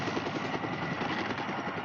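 A helicopter flies nearby in mountainous jungle terrain, its rotor producing a steady, loud, rapid thudding chop over a dense engine roar that continues without break.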